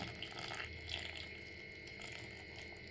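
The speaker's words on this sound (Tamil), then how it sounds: "கொஞ்சமாக தண்ணி சேர்த்துக்கலாம்" Soft trickling and splashing as water is added to dough for sweet kozhukattai, close by, with a few faint drips over a steady low background hum; nobody speaks.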